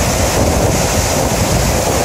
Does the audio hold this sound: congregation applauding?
no